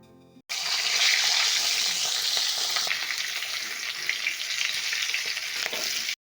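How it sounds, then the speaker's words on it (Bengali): Fish heads frying hard in hot oil in a pan for a Bengali curry, a loud, dense, continuous sizzle that starts abruptly and runs steadily without speech. "মাছের মাথাগুলোকে ভালোভাবে উল্টে পাল্টে দিয়ে ভালো করে ভাজতে হবে।"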